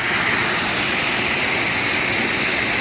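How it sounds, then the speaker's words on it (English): A small waterfall tumbling among mossy rocks, water squeezing through a little hole, gives a loud, steady, broadband rush that stays constant and close throughout. "just come across this lovely little waterfall here"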